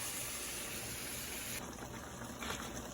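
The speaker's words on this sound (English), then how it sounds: "I just take my water, I pour it in the corner, and then I let it fill up like that" Water is poured into a pot holding seasoned beef for Louisiana-style gravy, a steady rushing splash that holds at a constant level, its tone shifting partway through as the pot fills.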